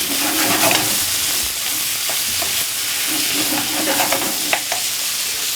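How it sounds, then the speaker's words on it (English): Corned beef and sweet corn fry loudly in a pan, with a steady close sizzle and the scrape and clatter of a utensil stirring through it. "Give it a stir."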